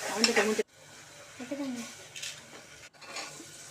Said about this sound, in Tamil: இப்போ இதையும் நல்லா கிண்டிக்கலாம்.